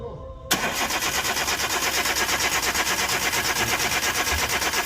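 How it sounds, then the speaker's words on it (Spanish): The starter of a Chevrolet Spark with an ignition coil fault cranks the engine, kicking in abruptly after a quiet moment and then churning in a steady, fast, rhythmic pulse, loud and close, with no talking. "Vamos a prender el partidor"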